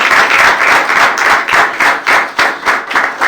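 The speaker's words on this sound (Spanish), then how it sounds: "Un aplauso al Señor por Lucena y Gustavo." A church congregation claps for newcomers during a service, loud overlapping handclaps with a pulsing, roughly rhythmic pattern of bursts, close and without talk.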